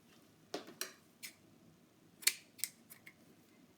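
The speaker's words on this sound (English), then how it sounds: "Your ribbon, this one we need to cut in half." Scissors snip through ribbon to cut it in half: a few sharp, quiet close-up cuts in uneven succession against a near-silent background.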